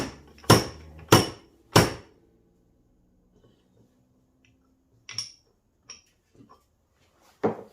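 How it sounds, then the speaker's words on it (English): Three loud metallic slide hammer knocks in quick succession, seating a fork seal retaining clip on a Suzuki GSXR 1000 K1, followed by quieter scattered taps and clicks after a pause, with a final sharp knock. "when I hit it with the slide hammer, it should knock that retaining clip right into its position"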